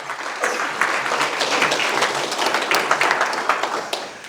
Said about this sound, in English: Everyone give Connor a round of applause for this one here.